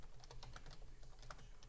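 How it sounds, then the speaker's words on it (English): Rapid computer keyboard typing during an online group session, a steady run of light, closely spaced key clicks at moderate level with no talk. "Literally, everyone's hearing you type."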